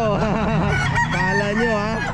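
Roosters crow repeatedly at a busy pet market, loud, overlapping calls close by with clucking chickens mixed in, over a constant crowd hubbub.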